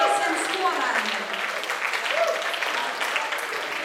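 Applause for students of Jēkabpils State Gymnasium at a school event, a steady dense crowd clapping that fills the room at even loudness throughout.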